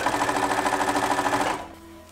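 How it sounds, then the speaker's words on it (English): A sewing machine stitches a quilt strip in a quilt-as-you-go scrap project, running in a steady fast rhythmic whir for about a second and a half, then stopping abruptly and leaving near silence. "And now we sew."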